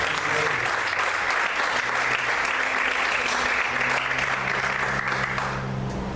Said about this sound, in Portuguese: Você pode aplaudir o Senhor com alegria?